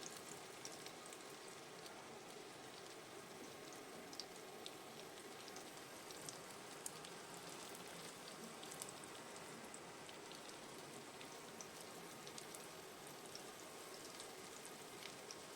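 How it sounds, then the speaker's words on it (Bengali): Small chicken breast pieces frying crisp in a pan for street-style chow mein, a steady soft sizzle with fine crackling spatters throughout and no talking. "একটু ক্রিস্পি করে ভাজবো"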